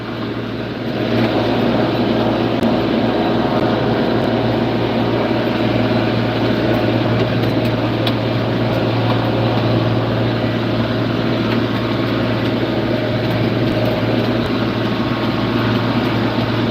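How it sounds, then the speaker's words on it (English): A John Deere 4255 farm tractor engine idles continuously at close range with a steady rumble and a constant low drone, no speech. "What kind of tractor is this? This is a 4255 John Deere."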